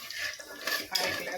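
Semolina roasts in a pan for ghee kesari, with scraping and stirring against the metal in a close, continuous, clattering rustle, punctuated by a few sharper utensil knocks.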